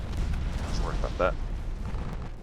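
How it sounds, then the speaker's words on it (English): A torpedo strikes a warship in the naval battle game Ultimate Admiral Dreadnoughts, producing a low, rolling explosion rumble that fills the clip while a voice briefly sounds over it. "Ooh, torpedo hit."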